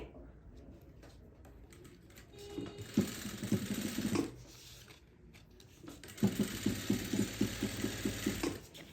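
An electric sewing machine stitches a salwar hem with bookrum lace in two bursts of rapid, rhythmic clattering, separated by a quieter pause with faint handling sounds.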